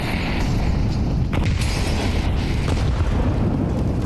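Incendiary grenade bursting in Counter-Strike during an IEM Atlanta esports match, a loud sustained whooshing roar of fire with low booming rumble and crackle throughout.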